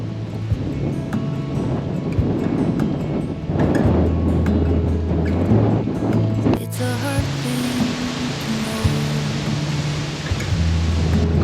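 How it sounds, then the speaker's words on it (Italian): Strong wind in Turkey buffets the microphone with rumbling gusts, while a low, steady hum continues underneath throughout. "Come potete percepire dalle piante c'è un bel po' di vento"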